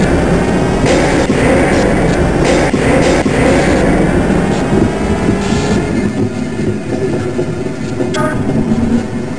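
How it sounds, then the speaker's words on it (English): A train moving in the Half-Life: Blue Shift video game, on the Black Mesa hazard course, gives a loud constant mechanical rumble with rattling wheel clatter and a few sharper clanks. No voices are heard. "Press your use key to engage the train"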